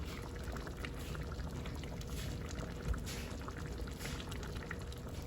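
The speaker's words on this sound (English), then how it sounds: "Here's where I'll add the remaining of my tomato." Tomato going into a simmering Guyanese-style lat pat banga fish curry in a pot. A steady close bubbling and sizzling fills the clip, with one soft plop near the middle and no talk.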